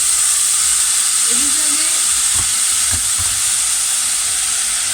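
Water poured into a hot pan to deglaze it, giving a loud, steady steamy hiss and sizzle that carries through the whole stretch while a person speaks briefly over it.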